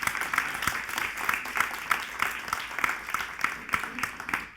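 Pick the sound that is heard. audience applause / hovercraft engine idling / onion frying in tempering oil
audience applause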